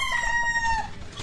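A rooster crows once in a long, drawn-out call with bright harmonics, close and fairly loud over faint outdoor background, fading out near the end.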